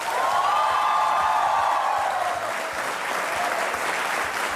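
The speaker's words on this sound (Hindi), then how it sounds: "और ये तालियां बजते रहे" A TV studio audience applauds steadily throughout as a singer is welcomed onto the Aap Ki Adalat courtroom-style show, with a rising and falling musical tone briefly sounding over the dense clapping.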